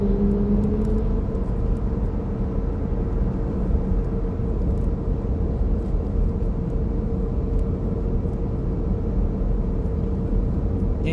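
A continuous low road rumble comes from traffic near the Haram in Madinah, where a green bus is passing. The broad engine and tyre noise holds steady and fairly loud for about eleven seconds.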